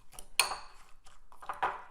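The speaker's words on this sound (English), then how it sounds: "we'll scramble it together with a fork" A fork clinks and scrapes against a bowl while scrambling an egg, with a few sharp metallic taps and short stirring scrapes, fairly faint and close.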